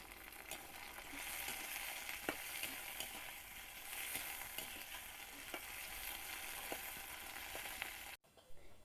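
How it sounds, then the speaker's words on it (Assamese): Eel pieces fry with dry-fried onions in a pan, a continuous close sizzle and crackle with occasional sharp pops and stirring clicks, quiet overall and without speech, cutting off abruptly near the end. "পিঁয়াজখিনি ড্ৰাই ফ্ৰাই কৰি ল'লোঁ তো এতিয়া আমি দি দিম কুচিয়াখিনি দি দিম"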